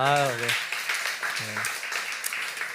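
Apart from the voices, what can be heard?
congregation clapping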